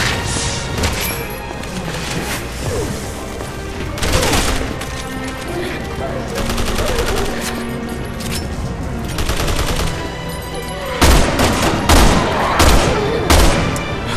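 Dense, continuous gunfire from Resident Evil 6, Leon's campaign, with rapid overlapping shots and crashes running throughout and a louder burst near the end.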